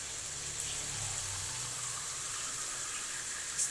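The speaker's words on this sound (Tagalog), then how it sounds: "lalagyan ko na siya ng tubig" Tap water poured into a cooking pot of braised meat, a steady, even hiss of running water that holds for the whole stretch without pause.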